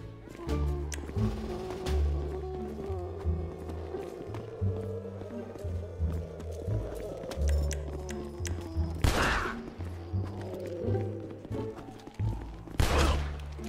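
Gunfire crackles in a GTA RP zombie-server video game, scattered pops and thuds over a low droning game soundscape, with a couple of louder bursts later on.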